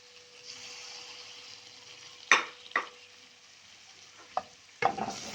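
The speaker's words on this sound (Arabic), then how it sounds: "نخليها العطريه ديالي تشحر مزيان" Spices with a leaf of sayidna musa and a spoon of mtiycha frying in a pan before rice goes in, a low steady sizzle broken by several sharp loud crackles and spoon scrapes.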